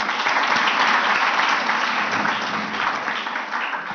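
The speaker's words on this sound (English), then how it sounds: "clap for them." Audience at an award session applauding the sponsors of a Best Overall Award: dense, even clapping from many people, loud and sustained throughout with no voices over it.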